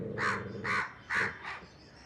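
A crow caws four times in a steady rhythm, loud and close, each call harsh and drawn out, with no talking.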